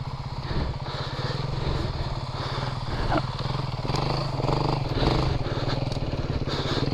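A Beta 350RR dirt bike engine runs at a steady, close, loud idle-to-midrange putter with a continuous rhythmic thrum and occasional small clatters.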